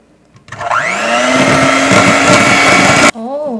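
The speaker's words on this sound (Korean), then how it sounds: "이쯤 돼서 비중 한번 재고 비중 낮으면 더 휘핑해서 마무리할게요." An electric mixer whips egg batter for pound cake, a steady loud whirring drone that starts abruptly, holds evenly for a few seconds, then cuts off.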